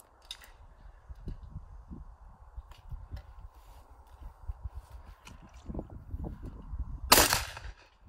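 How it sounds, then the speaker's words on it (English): A shotgun fires at a clay target after the call, a single sharp broadband blast near the end, preceded by soft rustling and low outdoor noise. "I'm going to be approaching from through the back of the target and then just working onto the front edge and taking the shot."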